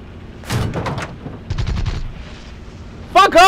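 Short bursts of rapid machine gun fire from a P-26 plane in a realistic-battle flight game crackle at mid distance, with two separate volleys and a faint rumble between them.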